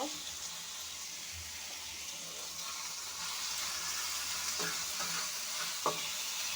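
Chopped tomatoes with salt frying in a pan with garlic for an egg curry, a quiet, steady sizzle that grows slightly louder midway, with a few light stirring taps near the end.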